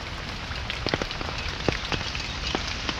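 Steady rain falls in a monsoon downpour in rural Naringre, Devgad, a dense continuous hiss with scattered louder drops striking nearby surfaces, and no voices.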